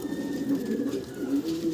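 Desi gola pigeons on a pigeon farm coo in low, soft, repeated murmurs, the rolling calls sounding close and continuous through a brief stretch without talk.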